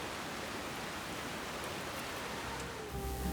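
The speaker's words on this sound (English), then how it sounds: "We didn't mind the rain at all." Steady rain falling in the woods of Washington State, a constant broadband hiss of drops on leaves and surfaces with no voices, swelling slightly louder near the end.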